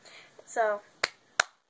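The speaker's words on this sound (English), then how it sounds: "So, clap, clap, pat, pat, pat" Two sharp, close hand claps ring out just after a short spoken word, part of a cup song rhythm of claps and pats on a surface.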